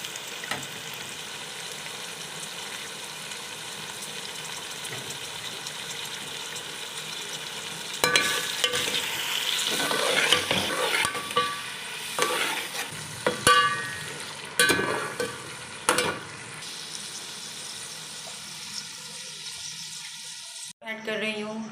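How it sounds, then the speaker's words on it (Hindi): Beef stirred and fried in a pot with softened tomatoes for yakhni pulao, a steady sizzle under scraping and clattering stirring strokes that grow busier midway, with a person talking briefly. "अब हम इसमें वही गोश्त डाल रहे हैं जो हमने यखनी के लिए बनाया था।"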